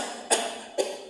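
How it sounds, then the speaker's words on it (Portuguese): Two sharp, deliberate coughs from a firefighter demonstrating during a lecture, spaced about half a second apart, close and fairly loud over a quiet room. "não para mais de tossir"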